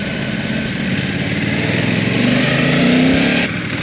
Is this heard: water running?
no